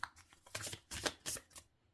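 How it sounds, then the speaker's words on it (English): A tarot deck being shuffled overhand, a quiet close rapid patter of cards slapping in several short bursts over two seconds, with no talking. "shuffling it overhand is pretty easy, as you can see"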